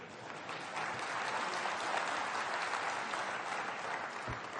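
Steady applause from an audience at a Hindi-language public address, a dense wash of clapping holding at an even level for several seconds with no voices over it.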